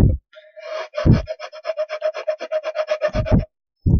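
A fine file rasps across a handmade wooden toy car in a steady run of about twenty quick strokes, close and fairly loud, with a few dull knocks at the start and end.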